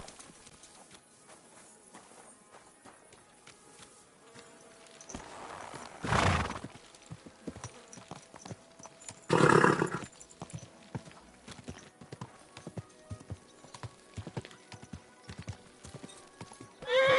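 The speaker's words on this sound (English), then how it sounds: "what a beautiful horse." A horse in the video game Kingdom Come 2 clip-clops steadily on hooves throughout, with two loud whinnies breaking in, one near the middle and one near the end, over quiet ambient game sound.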